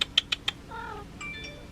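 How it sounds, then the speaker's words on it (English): A pet cat gives two soft, close meows after a few sharp taps, and no one speaks over the sounds. "I'll just say goodbye and end it with my cat, Sunny."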